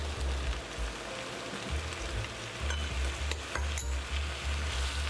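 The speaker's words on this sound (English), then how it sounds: "We can then toss." Beef chow fun rice noodles with onion and sauce sizzle and fry in a hot wok, tossed with a steady hiss and crackle, and low thumps keep time with the stirring.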